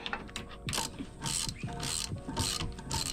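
Ratchet wrench spinning off the last nuts from the mounting bolts of a boat's outboard motor, with several bursts of rapid clicking in a steady rhythm, loud and close, with no talk.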